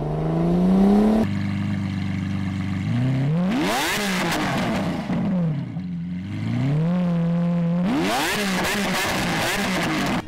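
A video game car engine revving hard in Roblox Brookhaven, in repeated bursts, rising and falling pitch between idle stretches, loud and close with no voices.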